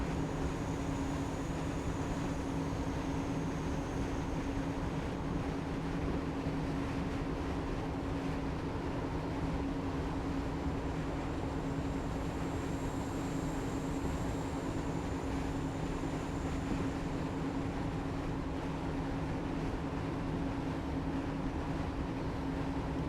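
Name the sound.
another train passing, from the video game Train Simulator Classic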